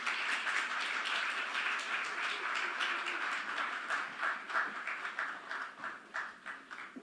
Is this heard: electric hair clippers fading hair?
no